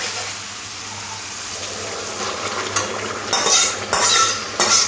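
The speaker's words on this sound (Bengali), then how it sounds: "মশলাটা ঢাকা দিয়ে খুব ভালো করে কষে নিচ্ছি" Spice paste stir-fried in oil in a pan, a soft steady sizzle under repeated scraping and clinking of a spatula against the pan, growing busier toward the end.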